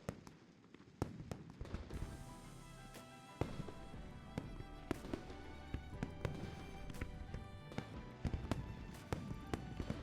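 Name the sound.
fireworks in video game Love and Deepspace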